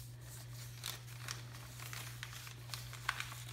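Paper being folded by hand to make a small seedling pot gives quiet crinkles and soft creasing rustles, faint and close with a few sharper crackles.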